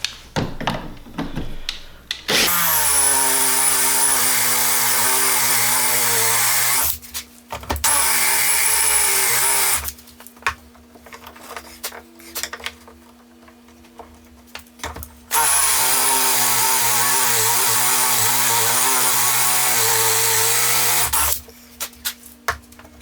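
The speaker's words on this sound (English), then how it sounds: "I'm ready to go ahead and drill my 2 actual holes for my door" A power drill bores hinge holes into a cabinet door in several long, loud whining bursts, with quieter pauses of low motor hum between runs.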